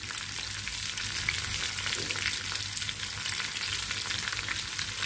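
Green chillies fry in oil for a quick pickle, giving a steady, dense sizzle that runs evenly from start to finish with a low background hum and no voices.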